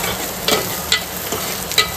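Chopped capsicum stir-fries in hot oil for a home-style Schezwan dish, a loud steady sizzle broken by several sharp scraping strokes of a spatula at regular intervals.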